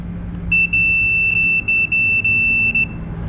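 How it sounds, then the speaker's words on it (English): A loud electronic alarm sounds in repeated high-pitched beeps, pulsing in uneven bursts over a low rumbling background, from an AC system being pressure-tested on a 1977 Pontiac Trans Am. "I don't know if you can hear that beep"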